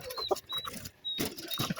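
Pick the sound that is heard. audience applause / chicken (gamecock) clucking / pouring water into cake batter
chicken (gamecock) clucking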